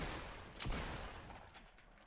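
A pump shotgun fires in a video game, one sharp blast standing out over a dense, noisy game background, with faint follow-up bursts.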